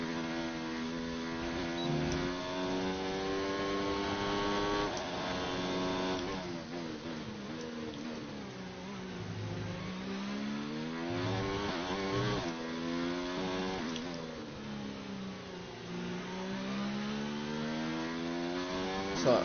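Formula 1 car engine in the racing game F1 2019, a continuous high-pitched whine with steady harmonics that climb and drop through gear changes and corners, loud and close throughout with no talk.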